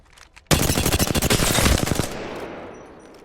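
Full-auto burst emptying a magazine in Apex Legends: a loud, sudden volley of rapid shots lasting about one and a half seconds, then a fading echo tail into near quiet, no talking.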